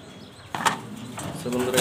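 A male pigeon coos nearby in a few low, throaty notes, briefly and fairly loud, after some soft rustling and a knock.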